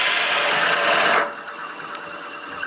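A dull Forstner bit boring into wood on a lathe at around 500 RPM, turning a German smoker: a loud, close rasping grind that stops abruptly after a second, followed by a quieter mechanical hum.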